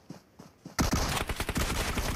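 Gunfire in the PUBG Mobile video game: a few faint distant shots, then a loud, dense burst of rapid automatic fire that continues to the end.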